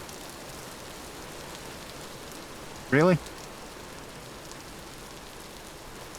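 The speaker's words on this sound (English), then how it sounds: "I'm actually kind of glad it's still raining over here." Constant rain pattering down in the game Vintage Story, a low, even wash of drops that carries on while a voice briefly speaks once midway.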